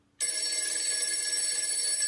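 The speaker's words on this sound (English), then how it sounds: "There was Computer Gordon on the red phone giving me his location" A red phone rings with a bright, continuous electronic bell that starts abruptly and holds at a steady loud level to the end, alone without voices.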